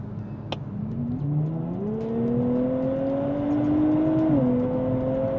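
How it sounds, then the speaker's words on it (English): A lightly modified 2023 Nissan Z accelerates hard in a roll race with its automatic transmission, the engine note climbing steadily with gear shifts audible as brief pitch drops, loud and continuous under faint road and wind noise. "the first thing we're going to do is roll race in automatic transmission"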